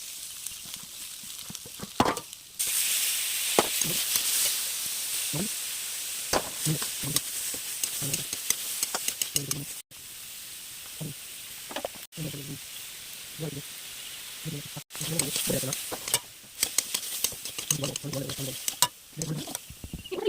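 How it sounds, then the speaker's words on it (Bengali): Vegetables with bay leaf, dried chillies, cumin, ginger-garlic paste, tomato and onion sizzle steadily in oil in a wok while a spoon scrapes and stirs in repeated strokes, broken by a few brief gaps. "কড়াইতে তেল দিয়ে তেজপাতা, শুকনো লঙ্কা, গোটা জিরে, আদা রসুন বাটা, টমেটো কুচি, পেঁয়াজ লঙ্কা কুচি দিয়ে সবজিগুলো সামান্য নুন ও হলুদ দিয়ে ভেজে নিন।"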